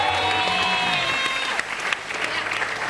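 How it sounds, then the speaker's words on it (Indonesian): A studio audience at a television variety show claps in a dense, steady burst, with faint musical tones early on and a clattering wash of hands that tapers slightly toward the end. "Tepuk tangan buat Raffi dan Denny."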